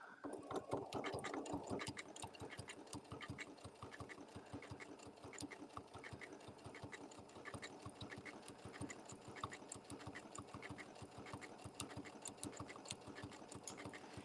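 A sewing machine stitching applique runs steadily, its needle ticking in a fast even rhythm, close and fairly quiet, with no talk over it.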